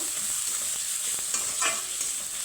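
A ladle stirs salt and a little turmeric powder into beans in a hot pan. The close, crackling sizzle carries a few soft scraping strokes over a brief stretch.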